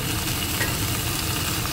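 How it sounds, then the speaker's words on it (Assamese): Tomatoes fry with spices in a pan, producing a soft, continuous sizzle and bubbling hiss with light stirring, steady and fairly quiet throughout. "বিলাহী দি অকণমান সময় ভাজি"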